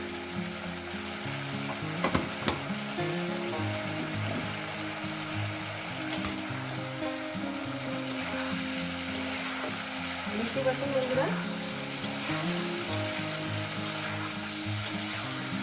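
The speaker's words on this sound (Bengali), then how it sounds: "মিডিয়াম গ্যাসে এই যে ঢাকনা চাপা দিয়ে ভাজছি" Cauliflower and potatoes frying under a lid over medium gas for an aloo phulkopi posto, a continuous muffled sizzle with a few sharp clicks of utensils and lid, no voice.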